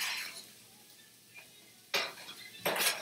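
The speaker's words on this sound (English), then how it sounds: "How about you cook some scrambled eggs?" Scrambled eggs cooking in The Sims 4 bring soft sizzling followed by two bright clattering bursts of cutlery and pans, close and moderately loud, with no talk.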